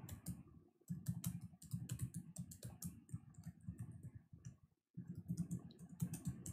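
Rapid keyboard typing while writing code on a computer, close and fairly quiet, with bursts of crisp key clicks, one short pause near the middle, then more typing.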